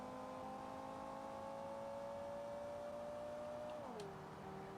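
A car engine in the racing and car-building game Automation, a raised vehicle without leaf springs driving on tarmac, holds a steady droning tone, then drops in pitch near the end as it eases off, alone with no talk.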